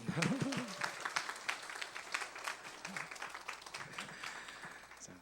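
A small group at a mission camp forum claps to welcome the next speaker, with fairly faint, uneven clapping and a brief voice near the start.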